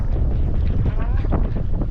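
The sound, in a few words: wind gust blowing on a boat on the lake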